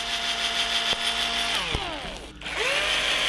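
Power drill boring holes into a mountain bike tire to fit snow studs, a steady close whine that dips in pitch as the bit loads up, with a brief slowdown near the end.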